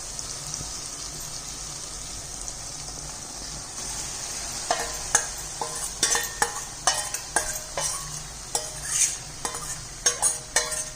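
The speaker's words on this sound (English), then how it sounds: "Now add all marinated vegetable in it." Marinated vegetables hit a hot pan for vegetable biryani: steady sizzling frying under repeated scraping stir strokes that grow busier and louder in the second half, close and without talk.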